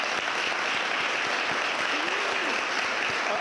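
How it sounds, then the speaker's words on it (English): A conference audience applauds panelists after an employment panel discussion, producing a steady, dense wash of many hands clapping at once. The sound is continuous for the whole stretch and fairly loud, with no one speaking over it. "I'd like to give a round of applause for our panelists."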